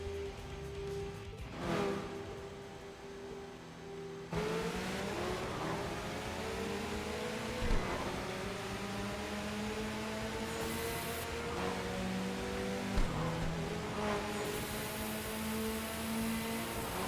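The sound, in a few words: car accelerating with nitrous boost in a video game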